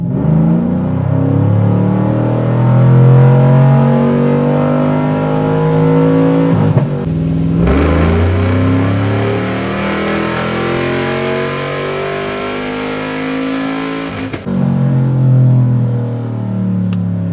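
A cammed LS3 V8 in a Chevy Trailblazer SS revs in second gear on a dyno, loud and close, with rising and falling engine tones and brief shifts or interruptions between pulls; no speech.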